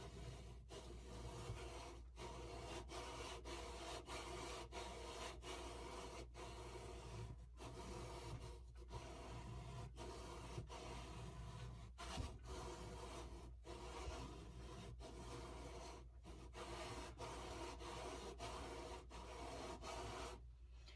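Scope rings being lapped with lapping compound on a shaft, a steady continuous rasping rub with a regular back-and-forth rhythm throughout, fairly close and alone without talk.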